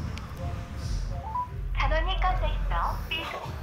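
A phone dials a call, with a short run of rising electronic keypad tones followed by a ringing pattern, heard over background room noise.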